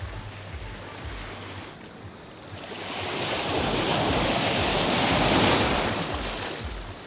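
Large Black Sea waves at Burgas surge and crash in a continuous roar of surf, building louder midway and staying heavy, with wind rushing across the microphone.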